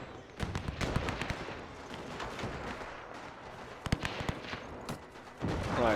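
World War One battle in Between Empires with German Empire troops: scattered rifle cracks and heavier artillery booms at irregular intervals, moderately distant, over a rumbling battlefield background.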